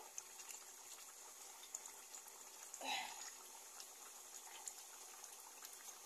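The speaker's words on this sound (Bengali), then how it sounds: "দেখুন বন্ধুরা কি সুন্দর জাল আসছে, টকবক টকবক টকবক" Meat curry simmers in a pot after cooking, giving a soft, continuous bubbling and gurgling that stays fairly quiet, with one louder swell partway through.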